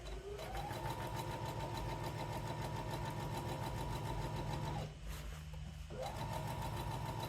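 Sewing machine stay stitching a neckline, a loud continuous mechanical whir and rapid needle chatter that runs steadily, stops briefly for about a second, then starts again, with no talking.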